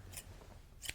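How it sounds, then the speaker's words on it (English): Two crisp scissor snips a moment apart, quiet and close, over a faint background hiss. "I also just love the sound of scissors."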